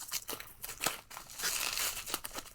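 Bubble wrap packaging crinkles and rustles as it is pulled off and unwrapped by hand, with a steady run of close, irregular crackles and tearing scrunches and no talking.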